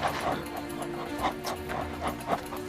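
A dog whimpers and whines softly in a run of short, repeated cries at fairly even intervals, close but quiet, over a low steady background hum.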